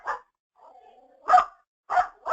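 A dog barks in a few separate short bursts with gaps between them, moderately loud, while a faint voice or whine briefly carries through one of the pauses.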